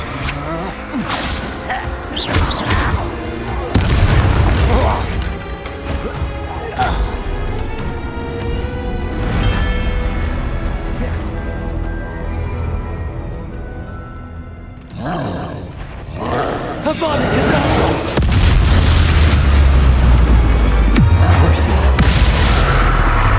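Confringo fire spells bursting in Hogwarts Legacy combat, loud booming blasts and whooshing swishes layered over a dense, continuous game soundtrack, with heavy impacts clustering near the end.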